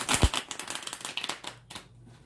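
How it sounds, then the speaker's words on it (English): Tarot cards being shuffled by hand, a quick run of dense papery riffles and flicks, close and moderately loud, tapering off near the end. "Shuffle again here."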